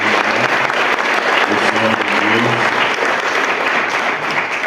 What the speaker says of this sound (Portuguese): Eu quero pedir a vocês que dêem uma salva de palmas ao pastor Zé aqui também.